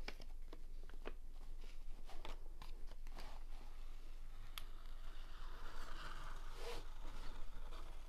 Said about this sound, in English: Peel it back.